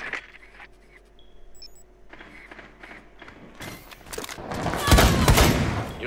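Gunfire in the game Rainbow Six Siege: sparse distant shots early on, then a loud burst of rapid fire with rattling impacts building toward the end, mixed with in-game mechanical noises and a player's voice.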